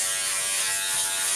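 An electric clipper buzzes steadily and close while shaving a head for a home fade haircut, a continuous bright motor drone with no talking.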